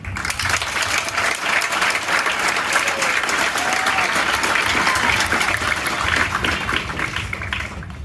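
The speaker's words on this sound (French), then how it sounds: "Alors nous allons acclamer et rendre grâce au bon Dieu qui nous donne cette couleur-là" A church congregation at a welcome service for new university students breaks into steady, dense applause, many hands clapping together for the whole stretch with a few scattered cheers rising through it.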